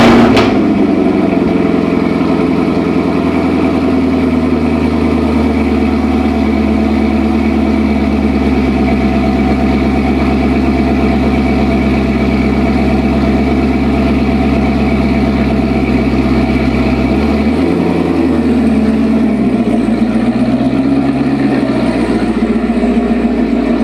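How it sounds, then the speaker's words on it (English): A 7-year-old Corvette ZR1 V8 holds a loud, steady, deep idle after a cold start, rumbling close and even with a brief dip and rise in revs near the end; no talking. "cold start"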